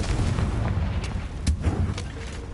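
Confringo fire spells exploding in Hogwarts Legacy: a rumbling sequence of booming blasts with sharp cracking bursts around the middle and later on, loud and close, with no talking.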